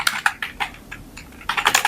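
Quick clattering keystrokes on a computer keyboard come in short bursts with a brief pause in the middle, close and fairly soft, with no talking.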